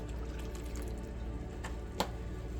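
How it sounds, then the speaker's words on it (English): Vinegar trickles into a pot of water set up for canning blueberry jam. The pour makes a soft, steady liquid sound nearby, with one brief splash near the end and no voices. "And I'm going to put some vinegar in it"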